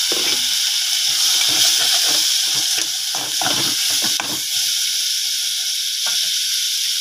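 Soaked cowpeas and okra sauté in a hot pan, giving a steady loud sizzle and hiss throughout, broken by irregular scraping and stirring clatters.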